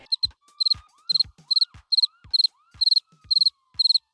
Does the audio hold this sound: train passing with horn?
no